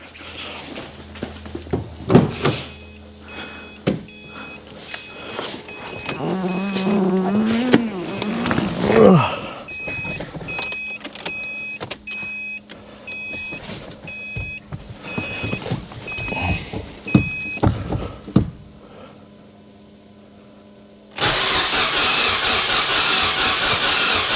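A freshly rebuilt Subaru WRX engine's first start: it turns over with uneven cranking and a chime beeping, then sputters and catches, ending in a steady loud idle with a hissing rush.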